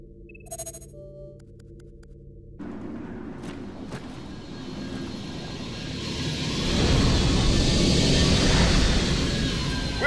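Aircraft engine from the Super 35 coming in to land in Vanquish, a broad roar that swells and grows louder over the final seconds after quieter electronic tones at the start.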